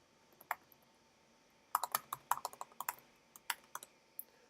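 Quick bursts of keystrokes on a keyboard, a few isolated taps followed by a rapid cluster of clicking keys, close and fairly quiet with no voices.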